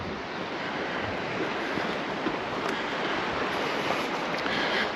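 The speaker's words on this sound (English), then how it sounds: "we do get really big waves on these rocks, and they can be quite spectacular" Sea waves wash over the rocks at Cala Gamba on the Mallorca coast, a constant broad surf roar mixed with wind buffeting the microphone, steady and loud throughout with no voices.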